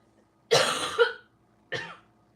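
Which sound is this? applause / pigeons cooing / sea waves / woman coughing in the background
woman coughing in the background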